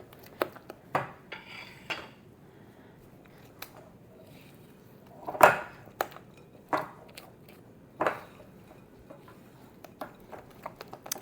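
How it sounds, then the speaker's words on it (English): Brownie batter being mixed in a bowl, with sparse utensil scrapes and knocks against the bowl and a few sharper clinks spaced irregularly over quiet background. "So I'm just going to mix this until fully combined."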